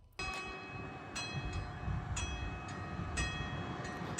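A train crossing an unguarded level crossing in Llojan sounds a steady, sustained horn throughout, with faint rhythmic clacks of wheels on rail joints beneath it, heard from close by.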